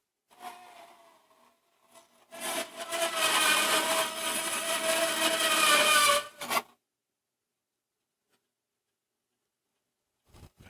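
A hand saw rasps through a moose shank bone in one sustained four-second stroke, close and loud, followed by a pause with faint handling noise.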